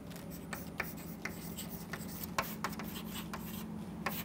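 Writing on a board during a light microscopy lecture on lenses: soft, faint scratchy strokes with light taps, continuous for a few seconds over a low room hum.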